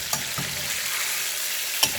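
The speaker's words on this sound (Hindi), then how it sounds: "हमारा बेसिकली अभी जो मकसद है वो ये है कि हम इस चिकन को कर लें फ्राई।" Chicken pieces fry in hot oil for a Shinwari chicken karahi, giving a steady close hiss with a couple of brief stirring knocks, no talking.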